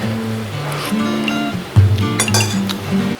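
A clean metal spoon clinks against a seafood paella pan while the rice is tasted, giving a few bright, close taps and scrapes over a low background hum.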